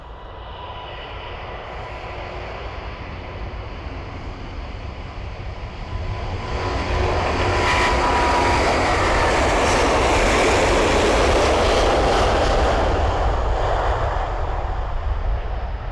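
A Singapore Airlines A350 spools up at Manchester Airport and begins its takeoff roll, a loud, steady jet roar that swells and grows rougher partway through, with no talking.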